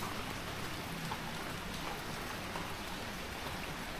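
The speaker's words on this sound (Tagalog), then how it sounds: "Ulan talaga siya, as in ulan." Steady, heavy rain pouring down, a dense constant hiss of drops on surfaces, close and unbroken.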